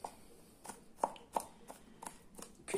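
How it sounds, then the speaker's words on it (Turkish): Fresh garlic cloves are chopped finely with a kitchen knife on a cutting board for a homemade orange and garlic cough remedy. Crisp, close knife taps come at an irregular but steady pace, a few landing harder than the rest, and no one speaks. "incecik olana kadar doğrayalım"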